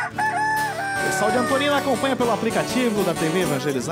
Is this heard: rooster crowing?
yes